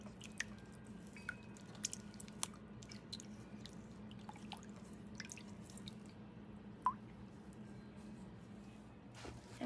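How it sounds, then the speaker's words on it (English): Clean carrots rinsed under water being washed with produce rinse water, giving soft scattered drips and wet squishy splashes over a low steady background hum, fairly quiet and close. "and rinse them off."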